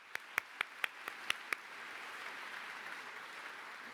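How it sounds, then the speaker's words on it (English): Audience applause for faculty at a university dental school commencement ceremony in 2018: a few sharp, distinct claps up front, then a steady wash of clapping from a large crowd in a hall, moderate and even. "So please give all of our faculty a good round of applause."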